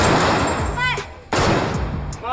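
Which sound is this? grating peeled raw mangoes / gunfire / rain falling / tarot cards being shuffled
gunfire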